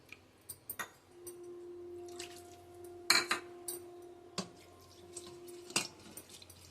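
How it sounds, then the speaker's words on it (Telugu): Water is poured into a bowl of curd for Mysore bonda batter in a home kitchen. A soft splashing pour is followed by scattered spoon and bowl clinks over a faint steady hum. "కప్పు పెరుగుకి ఒక అరకప్పు నీళ్ళు పోసుకుని కలుపుకుందామండి"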